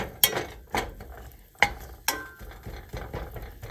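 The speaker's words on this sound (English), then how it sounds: "So I'm going to crisp up the bacon here." Bacon crisping in a pan while being stirred: a few sharp scraping clinks of the utensil against the pan stand out over a soft, faint sizzle, close and without talk.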